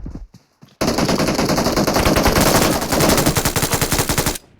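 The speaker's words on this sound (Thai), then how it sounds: "กั้มยิงฉันอีกแล้ว" Gunfire in the PUBG Mobile video game, a long loud burst of rapid automatic shots after a couple of brief taps, close and dominant, ending abruptly.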